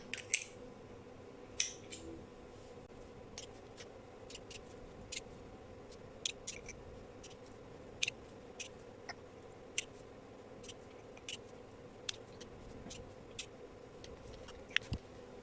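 Scissors trimming the tied yarn ends of a tube scarf knitted on a Sentro machine: sparse, sharp little snips at irregular intervals, faint and close against a low steady background hum, with no talking.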